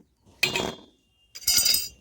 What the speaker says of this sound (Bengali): এখন গ্যাস ধরিয়ে কড়াই বসিয়ে দিয়েছি।